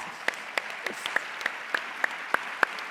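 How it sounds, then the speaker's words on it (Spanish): An audience at a Spanish education congress talk on mental health applauds steadily for teachers, a dense wash of clapping with sharper individual claps standing out at regular intervals, moderately near. "un aplauso para todos vosotros y vosotras"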